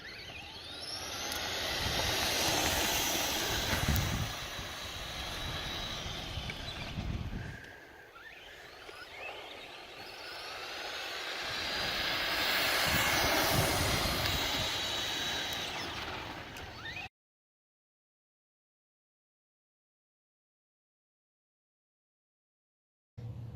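Two ECX AMP MT electric RC trucks race, one on a LiPo battery and one on NiMH, a rushing whine and gravelly roll that swells, dips and surges again for about seventeen seconds before abruptly going silent.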